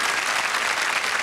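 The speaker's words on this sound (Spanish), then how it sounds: "Aplausos para Rosamel Araya." Steady, loud applause from a studio audience for contestant Rosamel Araya on a tribute show, a thick, continuous wash of many hands clapping with no voices over it.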